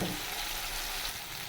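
Ground spice paste of cumin, ginger, pepper and garam masala, with green chilli and turmeric, sizzles and fries in a pan, a brief steady hiss with no talk.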